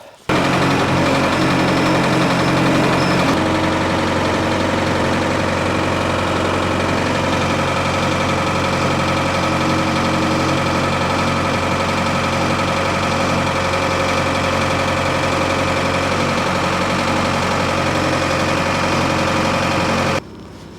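A Case 1845C skid steer with 10,000 hours on it runs at a steady loud idle, a close, continuous low rumble with a slight knock that stops abruptly at the end.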